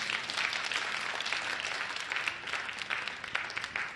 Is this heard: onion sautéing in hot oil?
no